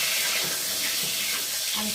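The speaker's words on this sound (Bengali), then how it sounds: "তো দেখো ডিমগুলো এখন ভেজে নেব" Eggs frying in hot oil in a pan, a steady loud hiss and sizzle that fills the whole moment with no pauses.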